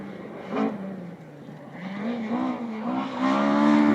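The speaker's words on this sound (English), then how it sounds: "Again, the gorgeous sound of the BDA engines." A rally car's BDA engine at the Neath Valley Rally revs and climbs through the gears, its buzzing note rising and falling as it drives nearby.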